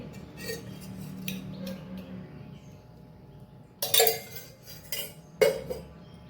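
Raw banana slices are tossed with a spoonful of oil and squeezed sour juice in a bowl: a few sharp, close clinks and scrapes of a spoon against the dish, separated by quiet pauses.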